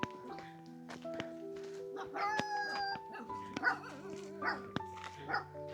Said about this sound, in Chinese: 这个里面听到有狗吠的声音